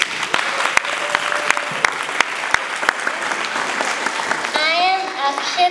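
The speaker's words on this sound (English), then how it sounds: "Please welcome them to the stage with a huge round of applause." Audience applause for a school band performance, a steady wash of clapping with sharp individual claps standing out, loud and continuous, thinning toward the end as a voice begins speaking.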